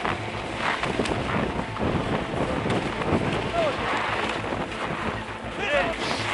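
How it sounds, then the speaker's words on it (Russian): Strong Arctic wind blows across open terrain in Chukotka, roaring and buffeting the microphone as a continuous gusty rush. Faint voices can be heard under it. "Ветер дует хорошо, где-то метров, наверное, 15."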